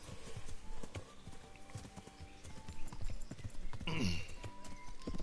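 Horse hooves clip-clopping on ground in the medieval video game Kingdom Come: Deliverance, an irregular series of close hoof strikes with a short neigh near the end.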